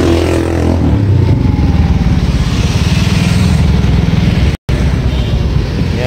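A 2015 Suzuki Satria 115 Young Star motorcycle being ridden, its small engine giving a loud, close, steady buzzing drone throughout with a brief dropout near the end.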